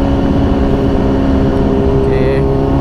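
Honda CBR 1000 RR superbike engine while riding on a long road, a steady loud drone with a constant low hum and rumbling wind, no clear revving changes.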